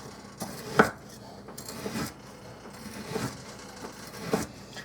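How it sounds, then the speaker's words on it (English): A knife chops sausage on a cutting board while making cabbage and vegetable soup, giving a handful of separate knocks spaced about a second apart over a soft kitchen background, close and clear. "I'm going to start cutting up the sausage."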